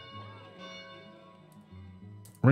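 Church bells ring in the video game Farthest Frontier, with low sustained tolling tones and lingering overtones, moderately loud, ending in a sudden louder burst.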